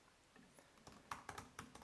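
Quiet typing on a computer keyboard, a run of light, uneven keystrokes that grows a little busier and louder toward the end, with no voices.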